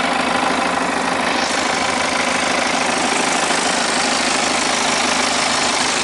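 A BMW 1 Series 120d 2.0 twin-turbo diesel engine idles close up, a loud, steady broadband hum with a fine rapid knock running through it, unchanging throughout.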